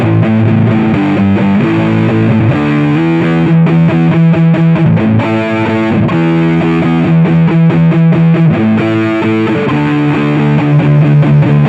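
EVH Wolfgang Standard quilted-maple electric guitar on its neck pickup through heavy distortion, playing a continuous riff of chugging low notes and chords, loud and close with no speech.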